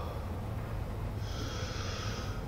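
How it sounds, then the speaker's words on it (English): Raspy, heavy breathing in a blacked-out room in the horror game Summer of 58, a continuous low rasp with a steady hiss, moderately loud and alone. "There's some nasty heavy breathing in here."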